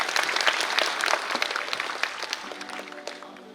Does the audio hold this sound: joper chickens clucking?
no